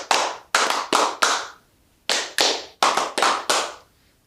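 Bare hands clap out a fandango rhythm in a school physical education lesson, sharp claps in short groups of two and three separated by brief pauses, close and alone with no talking.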